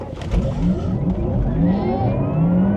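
A Porsche Taycan Turbo electric car in Sport Plus mode launches hard from a standstill, with a rising electric motor whine over a steady road and tyre roar, close and loud throughout.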